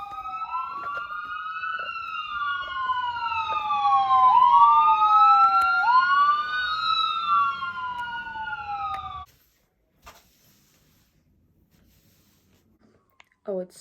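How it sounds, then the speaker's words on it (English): An ambulance siren wails through rising and falling sweeps as it passes on a nearby road, loud and close for several seconds, then cuts off abruptly into near silence. "There's another ambulance coming. It's going to be very loud in a second."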